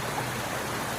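Steady rushing of a river flowing through the ancient Hyrcanian forest of northern Iran, a continuous broadband wash of water heard close and even throughout, with no voices.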